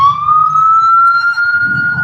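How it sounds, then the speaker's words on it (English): A loud emergency siren wails with a single rising tone, sustained and steadily climbing in pitch, with low traffic rumble beneath it. "See, there's a siren."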